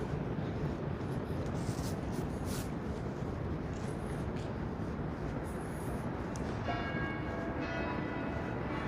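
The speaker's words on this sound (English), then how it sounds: "this is Trinity Church. Those are the bells that you guys are hearing right now" Trinity Church bells ringing in Lower Manhattan, heard at a distance over steady city street noise, with repeated strikes through the first half and sustained ringing tones later.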